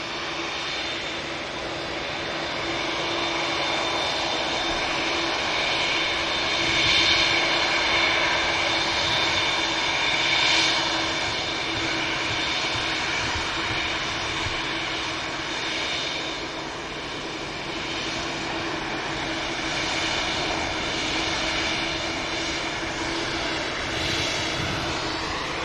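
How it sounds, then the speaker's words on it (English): A Boeing Dreamliner jet departing Manchester Airport gives a steady, fairly distant roar that swells and fades slightly over a long stretch, with no talking. "Dreamliner on Tango. It's going to get out before the Helsinki bound flight."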